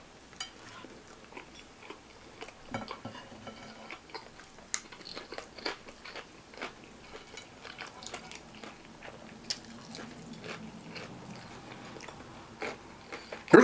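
Mouth smacking and crunchy chewing while eating a chopped cheese sub, close and wet with irregular bites and lip smacks over about fourteen seconds, no talking.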